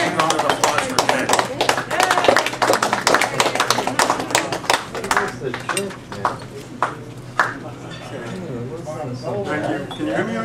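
An audience applauds to welcome a presenter to the lectern at a talk, dense clapping that gradually thins out over several seconds with some murmuring.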